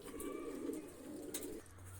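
Racing pigeons cooing softly nearby, a low throaty rolling coo repeated over a couple of seconds.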